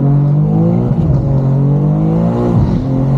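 A tuned BMW M2 pulls hard through a bend, its engine loud and close, revs climbing in smooth sweeps with a brief dip at a shift before surging again.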